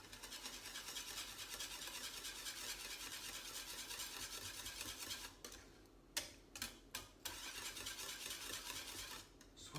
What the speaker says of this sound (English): Let's just give that a bit of a whisk up.